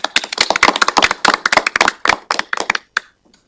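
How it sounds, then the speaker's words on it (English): Applause at a county board of commissioners meeting: a small group claps in sharp, quick, close strokes for about three seconds, then the clapping thins and dies out. "so just give them a round of applause"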